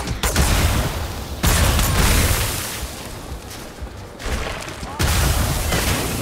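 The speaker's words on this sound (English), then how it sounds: "Is that them shooting that shit at me?" Gunfire and heavy booms from enemies shooting at the player in Starfield, a dense, continuous barrage of blasts that swells and ebbs, with loud bursts near the start and end.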